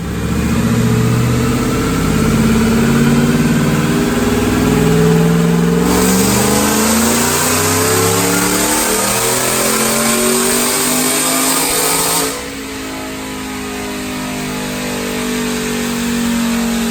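A 2012 Ford F150 with a Roush supercharger and Kooks exhaust revs at wide open throttle on a dyno. The close engine roar climbs steadily in pitch, holds a high scream, then drops off sharply and settles back near idle.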